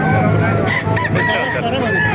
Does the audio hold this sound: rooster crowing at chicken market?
yes